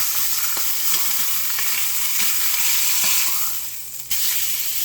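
Beef chuck steak fries in a hot pan after being flipped, giving a loud, steady hissing sizzle with occasional pops and a brief dip near the end, no voices present.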